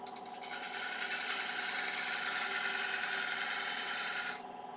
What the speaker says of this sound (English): This is just a little 3/8 ball gouge with a 55 degree with a long swept back wing on it, so it's just ideal for a little shear scrape